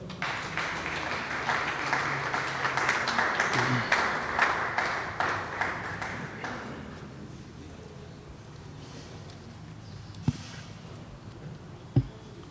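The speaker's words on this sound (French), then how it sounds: "Sous vos applaudissements, s'il vous plaît." Audience applause at a ceremony launching a pan-African literature prize: steady massed clapping for about seven seconds that fades out into a quiet room, followed by two sharp isolated knocks.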